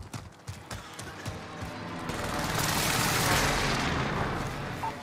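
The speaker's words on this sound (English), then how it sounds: "Allied precision airstrike incoming." Airstrike explosions build into a loud, sustained rumbling roar in the video game Warzone, preceded by a few sharp impacts before the blast swells and lingers.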